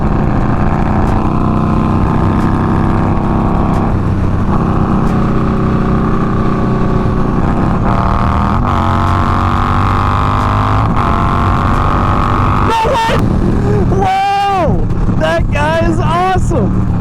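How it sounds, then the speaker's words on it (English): A loud Indian Scout cruiser motorcycle exhaust drones steadily while riding, with steady wind roar throughout; a voice speaks over the noise near the end. "And this exhaust is so loud."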